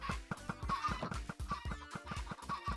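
Chickens in a Minecraft-style video game cluck in a steady, rapid series of short calls, close and moderately loud, with no voices over them.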